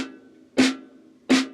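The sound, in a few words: four quarter notes played on snare drum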